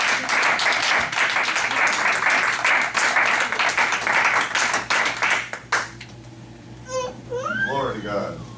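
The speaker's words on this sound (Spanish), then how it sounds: "Dale un aplauso al Señor Jesús." A congregation in a church applauds, with loud, dense, steady clapping that stops suddenly, followed by a preacher's voice and a child crying.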